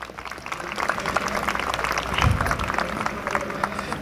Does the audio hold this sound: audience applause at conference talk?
yes